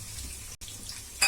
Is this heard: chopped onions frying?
yes